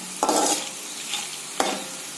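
Garlic frying in a pan as it is stirred, a continuous loud sizzle with scraping stirs near the start and again toward the end.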